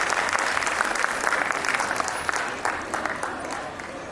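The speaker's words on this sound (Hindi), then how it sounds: "एक बार सर के स्वागत में हम लोग सभी तालियां" Audience at a school annual function applauds to welcome the chief guest, a steady, moderately distant wash of many hands clapping without pause.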